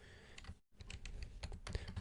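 Quick typing on a computer keyboard while a Gmail account is being set up, a close, steady patter of key clicks broken by a brief pause, with no voices.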